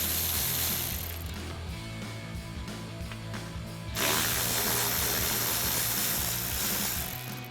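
A ratchet with a 10mm socket loosens belly pan bolts on a 2008-2023 Dodge Challenger, giving rapid bursts of metallic clicking close up, then a steadier, louder run of ratcheting near the end.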